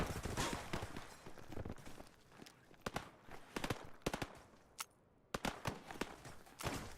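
Scattered gunfire in a shooter game: sharp single shots and short clusters crack out at irregular intervals over a low background of game noise.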